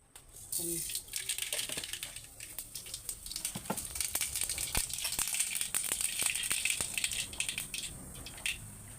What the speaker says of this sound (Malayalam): കുറച്ച് ഓയിൽ ഒഴിക്കുക പിന്നെ ഇനി കുറച്ച് കടുക്